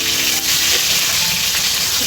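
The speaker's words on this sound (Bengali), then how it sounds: "এই দেখো আলু হালকা ভাজা হয়ে গেছে তখন দিয়ে দিয়েছে হাফ টমেটো" Lightly fried potatoes with half a tomato added, sizzling in a hot pan with a steady, loud, even crackle that runs unbroken from start to finish.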